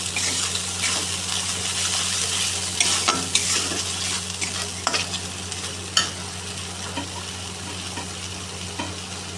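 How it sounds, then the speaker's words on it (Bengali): Prawn and soybean curry masala being stir-fried in hot oil with salt, a steady close sizzle broken by scraping spatula strokes and occasional louder clacks against the pan, with no talking. "মশলাটাকে ভালো করে কষিয়ে নেবো যতক্ষণটা তেল না ছাড়ে"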